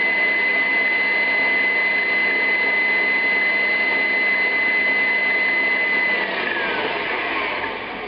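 A stand mixer with the paddle attachment creaming butter for a death by chocolate cake, a loud steady motor whine with a high tone running close and continuous, then winding down near the end.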